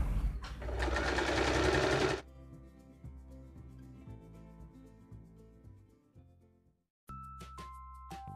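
A sewing machine stitches fabric for a hair band, running in a loud steady whir for about two seconds, then continuing in shorter, quieter bursts of stitching with small clicks and pauses.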